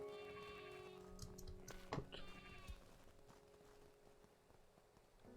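Sheep bleating in the video game Craftopia, several harmonic bleats in the first two seconds over a steady game background hum, then fading to ambient tones; a voice speaks briefly.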